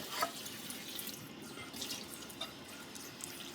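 Running tap water splashes steadily into a sink with soft scrubbing and wet rubbing sounds as a sponge with soap washes a deep fry pan, close by and continuous, no talking.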